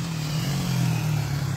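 A motorcycle engine runs steadily on a street, a continuous close droning hum at an even level with no talking.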